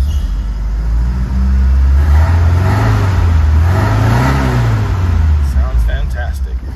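A 1971 Fiat 124 Sport Spider with a 1600 twin cam and an aging fan belt starts up and revs, loud and close, its engine note rising and falling in swells, with a voice talking over it.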